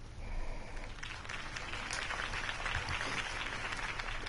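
A crowd claps steadily in continuous applause, moderately loud and dense, with no clear voices over it, in the video game Batman: The Telltale Series.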